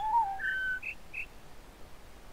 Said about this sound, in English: It's the whistle, because that's the long piece.